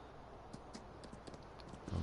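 Horse hooves clip-clop steadily while riding through a ranch in a farming video game, a quiet, even rhythm of soft knocks over a low background hum, with a louder thump at the end.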